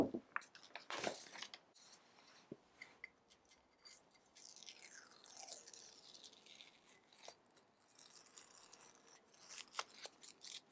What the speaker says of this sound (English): I'm going to take this out and peel it and just see what we ended up with.